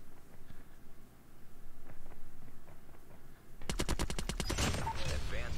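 Automatic LMG fire in a first-person shooter video game, a loud rapid burst of evenly spaced shots kicking in partway through and continuing to the end over quieter game ambience.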